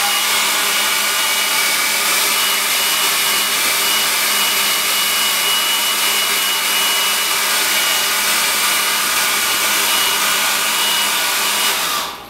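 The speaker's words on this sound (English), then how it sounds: "we're going to dry that off really quickly using a hairdryer" A hairdryer drying a watercolour wash blows steadily at close range, a loud, continuous whooshing hum that holds for about twelve seconds before cutting off.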